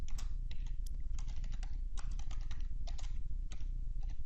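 Rapid, irregular clicks of a computer keyboard as text is typed into Notepad, close and clear with no voices.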